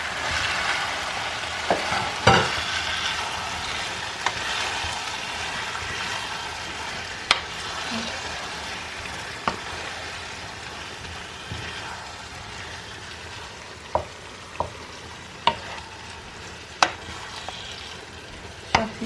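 Stewed vegetables and tomatoes fry in a pan for a tomato chicken soup, giving a continuous low sizzle with scattered sharp taps from a stirring utensil knocking the pan.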